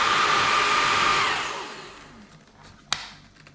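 The motorized brush of a Dreame Z10 Station cordless vacuum whirs at a steady high pitch, then spins down and fades, followed by a single sharp click near the end.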